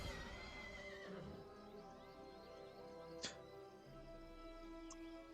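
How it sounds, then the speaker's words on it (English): A horse neigh and whinny rings out as a game sound effect from the Bunnicorn card in Magic: The Gathering Arena, a descending neigh over steady background game music, followed by a brief sharp sparkle. "I'm only just now realizing that it makes a horse noise"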